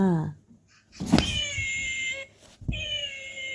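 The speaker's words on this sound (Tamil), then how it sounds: "உன்னை பூனை கடிக்க வருது" A cat meows loudly and close by, two or three drawn-out wavering cries separated by short gaps, with a few soft knocks around them.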